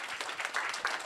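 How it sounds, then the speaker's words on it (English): Audience applause at a panel event: dense, steady clapping from a crowd, filling the whole brief moment at an even level. "Give him a round of applause."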